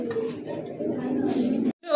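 A pair of red indigo Rasgolla pigeons in a cage coo in low, rolling murmurs, mixed with nearby talk. The sound breaks off briefly near the end.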